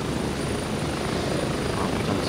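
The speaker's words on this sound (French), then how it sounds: "Y'a un hélico qui arrive." A helicopter in the video game Gray Zone Warfare approaches with a steady, loud rotor and engine roar, sustained and close throughout.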